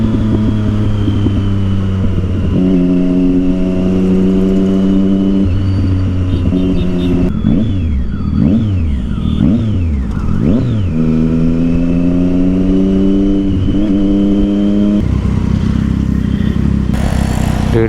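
A Triumph Street Triple motorcycle with a loud Yoshimura exhaust idles close by, then revs repeatedly in rising and falling blips before settling back to a steady, throaty drone.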